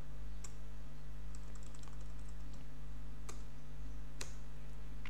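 Keys on a computer keyboard tap in short, scattered bursts while a message is typed, quiet over a steady electrical hum.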